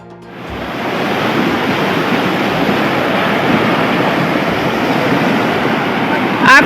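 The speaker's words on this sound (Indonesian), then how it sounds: "Angin kencang porak-porandakan Sulawesi Selatan." Strong whirlwind windstorm tearing through Gowa, South Sulawesi, a loud, steady broadband roar of wind buffeting the microphone for several seconds with no talk.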